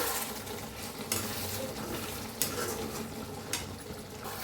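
Ridge gourd curry with fresh coriander stirred in a pan, a soft steady scraping and gentle sizzle with a few sharper spoon-against-pan knocks, close and moderately quiet, no voices.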